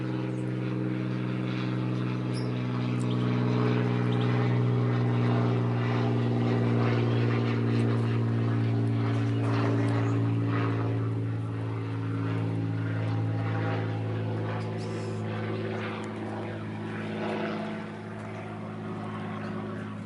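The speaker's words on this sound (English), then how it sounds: "Wait for the training plane to go over." A propeller training plane drones overhead above a garden, its engine hum swelling and then slowly fading as it passes, with no talking.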